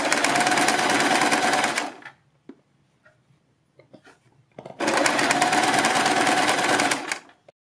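Sewing machine stitching fabric for a neck design, running in two loud, steady buzzing bursts of about two seconds each, separated by a quiet pause with small handling clicks and rustles.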